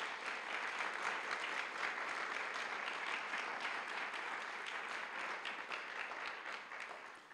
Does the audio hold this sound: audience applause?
yes